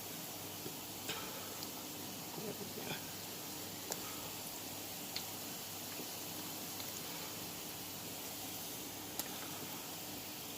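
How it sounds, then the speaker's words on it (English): A soft, steady sizzle of dumplings frying in oil over medium-low heat, faint and continuous with a few tiny crackles, no voices. "frying our dumpling."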